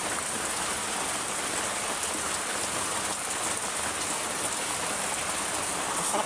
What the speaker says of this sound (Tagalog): Kasi umuulan.